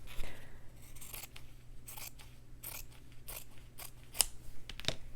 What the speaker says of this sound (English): Now that I have my circle traced, I want to come over here and cut it out.